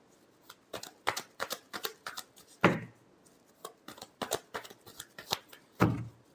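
Tarot cards shuffled by hand in a rapid series of crisp riffling snaps and slaps, with two heavier bridging cascades, close up and with no voices.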